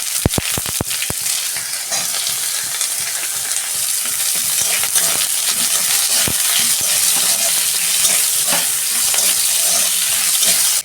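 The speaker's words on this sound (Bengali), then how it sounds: "ফোড়নটা ভাজা হয়ে গেছে, আমি পেঁয়াজ দিচ্ছি।" Steady, loud sizzling as onions go into hot oil with fried whole cumin, opening with a few sharp clicks and taps, then a continuous crackling hiss.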